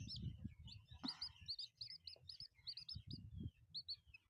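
Two newly hatched chicks give rapid, high, repeated peeping chirps close by, quiet overall, over low muffled thumps and handling noise.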